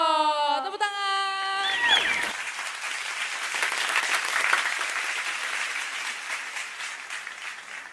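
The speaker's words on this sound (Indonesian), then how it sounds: "Tepuk tangan." A university dance competition audience breaks into loud, sustained applause right after a short musical tone fades, the clapping filling the hall steadily to the end.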